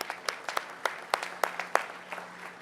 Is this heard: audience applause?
yes